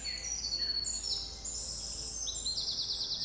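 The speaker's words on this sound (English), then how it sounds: "Bird song gets louder for a moment." Birds sing in the trees, several bright chirping phrases and trills overlapping clearly over a soft, steady background hush.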